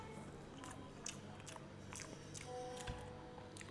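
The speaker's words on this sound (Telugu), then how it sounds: "ముందు రైస్ టేస్ట్ చూద్దాం ఎలా ఉందో" Close mouth sounds of someone biting and chewing a mouthful of chicken pulao rice, soft wet crunches repeating at a steady pace against a quiet room.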